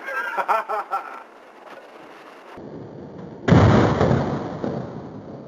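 A small mini-cannon fires at a Fourth of July celebration: voices chatter first, then after a quiet pause a single sharp, loud boom erupts and rumbles away into a lingering roar.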